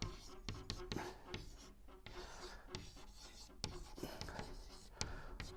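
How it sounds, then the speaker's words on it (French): Marker or chalk strokes on a board, a run of short scratchy rubbing sounds with brief pauses between strokes, close and fairly quiet, with a faint voice now and then. "je vais l'écrire ici."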